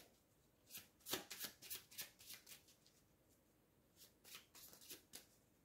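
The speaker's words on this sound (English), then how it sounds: "Shuffle." Playing cards for the Eldritch Horror board game shuffled by hand nearby, two bursts of quick riffling flutters separated by a short pause, quiet and without talk.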